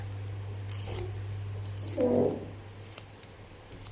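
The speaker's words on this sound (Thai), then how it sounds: "เด็กๆ ก็ฉีกกระดาษเป็นชิ้นเล็กๆ นะคะ" Paper is torn into small pieces by hand for a craft project, giving a few short, soft rips over a low steady hum with no talking.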